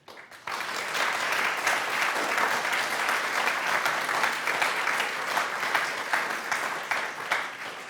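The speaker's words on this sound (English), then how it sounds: "Wild applause, please, audience." Audience applause at a live 2019 Lincoln debate: a sustained, dense wash of clapping starts abruptly after a brief quiet moment and holds steadily for several seconds, close and loud with no voices over it.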